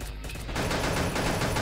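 Pistol gunfire in the video game Pixel Gun breaks out after a brief quiet start, turning into a dense, loud, sustained burst of rapid shots.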